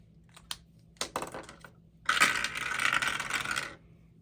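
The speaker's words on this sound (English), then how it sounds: "I roll a 6-sided die" A six-sided die rolled by hand during a home savings challenge: a couple of short clicks, then a longer close rattle and clatter as it tumbles for about a second and a half before settling.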